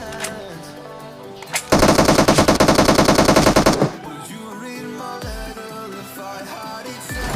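Loud sustained M416 assault rifle burst in the BGMI mobile battle royale game, firing rapidly for about two seconds amid game background sounds, with no talk.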